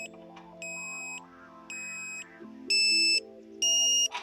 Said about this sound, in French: La tonalité continue n'indique pas à ce stade le signal optimal.